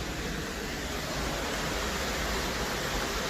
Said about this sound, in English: There's a nice fall. That might be Twister Falls.